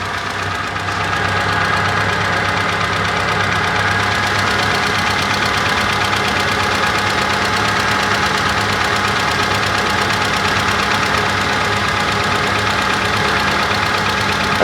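A 2003 Toyota DX car engine idles just after being started, a loud, steady running hum with a faint knocking rattle through it, close by and without voices.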